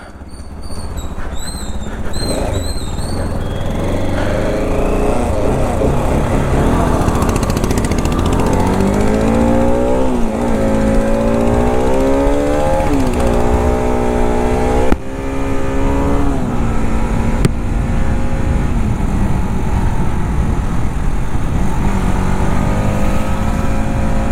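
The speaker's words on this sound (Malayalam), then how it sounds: "വണ്ടി ഒന്ന് കൈ കൊടുത്ത് നോക്കിയതാണ്." A modified Royal Enfield-style RS200 motorcycle engine drones steadily as the bike is ridden on a fresh, rain-wet road, its pitch rising and falling through several throttle pulls, loud and close for the whole stretch.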